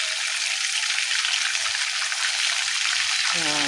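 Chicken satay frying in a pan: a loud, continuous crackling sizzle that fills the whole clip, with a brief faint voice near the end.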